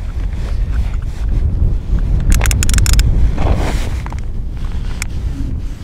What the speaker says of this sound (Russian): Ветер дует, мешает нам.